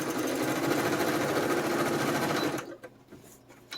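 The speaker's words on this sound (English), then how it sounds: "And then I have my sewing machine here to the left." A sewing machine running a straight stitch around a paper pocket whirs rapidly and steadily for over two seconds, then stops abruptly, leaving faint handling noises.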